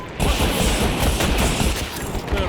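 A 20mm cannon rattles out a continuous, dense burst of rapid fire in Battlefield 2042, loud and close, the heavy thudding shots blending into one sustained roar.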